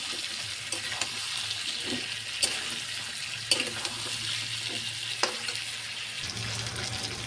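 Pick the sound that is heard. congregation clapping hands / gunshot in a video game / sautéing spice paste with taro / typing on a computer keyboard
sautéing spice paste with taro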